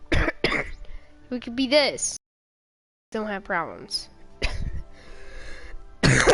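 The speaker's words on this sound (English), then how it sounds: "Lots of coughing." A girl coughs and clears her throat in several sharp, close bursts, broken by a short silence. Talking mixes in between the coughs.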